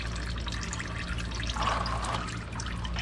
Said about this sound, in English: you'll have more oil pouring out of it.